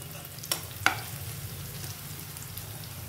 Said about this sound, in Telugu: ఆనియన్స్ చక్కగా వేగిపోయాయి